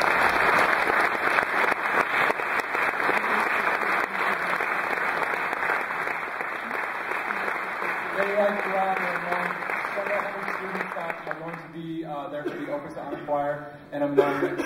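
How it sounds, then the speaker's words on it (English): An audience gives a long, sustained round of applause for a group of honor choir singers, thick and even at first, then thinning out as a voice begins speaking near the end. "Let's give these ladies a round of applause."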